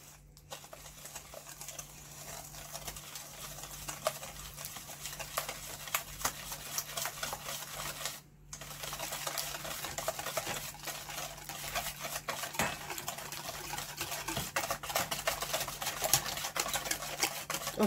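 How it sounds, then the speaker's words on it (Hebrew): A spoon or whisk stirring honey cake batter in a bowl, steady rapid scraping and tapping that carries on throughout with a brief pause midway, close and moderately loud, no talking. "אנחנו מערבבים"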